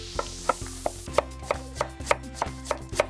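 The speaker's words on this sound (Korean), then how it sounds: "그래서 채를 썰어주세요" A knife cuts radish into thin julienne strips for kimchi on a board, a steady run of about a dozen crisp, evenly spaced chops, close and clear with no talk.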